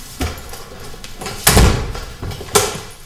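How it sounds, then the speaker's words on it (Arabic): A door is shut, with a soft knock early on, then a solid thud and a second firm bang, each close and fairly loud in a quiet indoor room. "من فضلك اقفل الباب وتعال"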